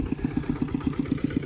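A slow duck tractor engine idles and chugs while manure is loaded, a steady low putter with even, regular pulses throughout, close by and alone.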